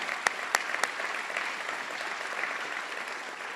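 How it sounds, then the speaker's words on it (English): An audience at a community kindness celebration gives a quiet, steady round of applause for local volunteer organizations, with a few sharper claps standing out near the start and the sound staying soft and distant. "I think they deserve our round of applause too."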